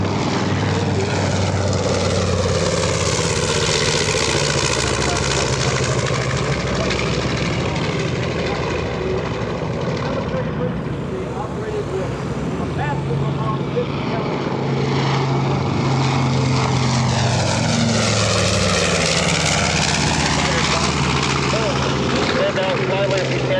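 A four-engine Privateer warbird flies past at the EAA AirVenture airshow, its piston engines droning loud and continuous with a rising and falling pass, while a voice talks over it throughout.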